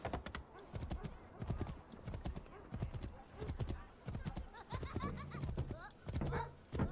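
Horse hooves clip-clop steadily from a ridden horse in Assassin's Creed III, with a neigh partway through, while people talk over the game sounds.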